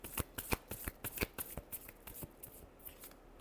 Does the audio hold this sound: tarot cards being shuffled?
yes